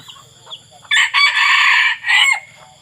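A bantam rooster crows loudly and close by, one long strained call broken into bursts, with quieter bird sounds before it.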